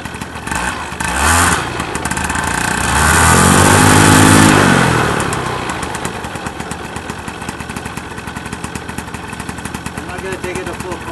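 A Vittorazi paramotor engine warming up with its propeller turning, a close, loud two-stroke drone that swells briefly in revs and settles back to a steady idle, with someone talking over it.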